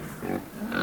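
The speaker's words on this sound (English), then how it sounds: "pigs," A pig oinks among farm animal sounds, a short snorting grunt close by, lasting under a second with no talking over it.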